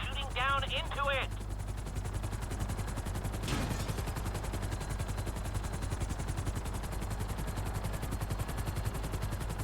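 Helicopter hovering over an excavation site during a GTA V mission, with a steady rotor drone throughout, a brief burst of chirping game sounds at the start and a sharp transient near the middle.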